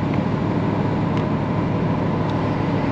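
Mercedes SL engine accelerating, a steady, smooth low drone with road and wind noise heard from inside the cabin, even in level with no distinct gear changes over three seconds.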